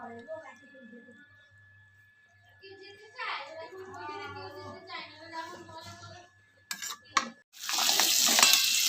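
Potatoes and crab sizzle in a pan. A soft voice talks through most of it, then a loud, crackling fry bursts in near the end.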